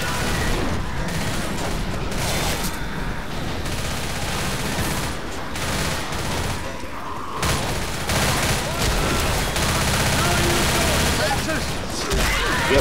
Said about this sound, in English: Yep, I just shot my teammates a whole bunch.